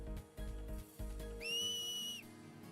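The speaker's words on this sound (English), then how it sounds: "A whistle? In Xanarkin, we do this to cheer on Blitz players." Finger whistle from the video game Final Fantasy X, one sustained shrill tone lasting under a second, following soft rhythmic background sounds.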